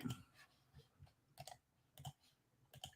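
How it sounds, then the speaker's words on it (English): Faint, sparse clicks of a computer mouse, about eight sharp taps at uneven intervals in a quiet room. "Got the mouse clicking."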